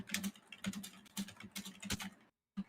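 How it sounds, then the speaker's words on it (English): Rapid, loud clacking of a computer keyboard being typed on up close, in bursts of keystrokes with a short pause near the end before typing resumes. "He has a very loud keyboard."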